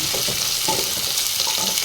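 Steady hissing sizzle of chopped onions frying in hot oil, continuous and fairly loud, with occasional soft stirring clatter.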